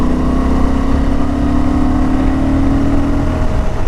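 Honda Transalp 750 motorcycle pulling hard in fifth gear from about 50 mph and 3,500 rpm, a steady loud engine drone with strong low harmonics that holds throughout without a break.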